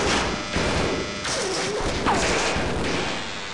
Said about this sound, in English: You blew up the barrels